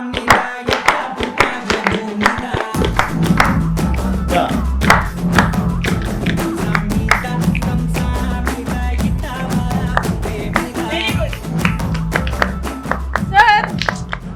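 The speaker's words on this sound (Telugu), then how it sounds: "క్లాప్ చేయండి bro, clap everybody, children clap" A group of children claps along to music, giving rapid, fairly loud rhythmic hand claps over a musical backing that runs throughout, with voices mixed in.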